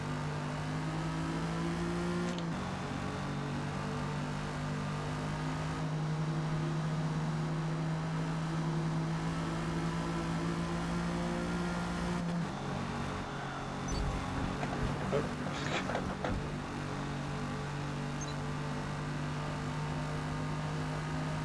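A 1956 Jaguar D-Type in Forza Motorsport at Hakone, its engine droning steadily at a held pitch that shifts a few times, with faint tire scrubbing toward the end.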